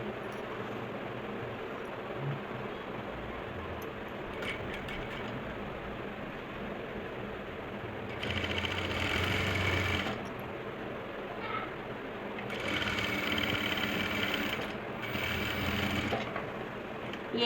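An electric sewing machine stitches a salwar hem in short bursts, its rapid mechanical clatter running about two seconds, then four, then briefly again, over a quiet room background.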